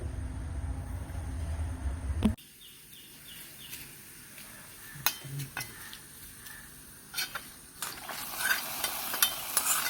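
Shallots, curry leaves and dried chillies fry with spluttering mustard seeds for a prawn theeyal, a loud sizzle at first that drops to a quieter crackle broken by sharp spoon-and-pan clinks from stirring.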